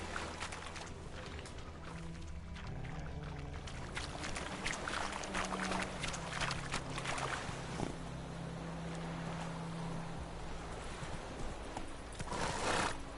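In The Witcher 3: Wild Hunt, the horse Roach gallops with quick, continuous hoofbeats and occasional snorts. Wind and game ambience play throughout, and no one speaks.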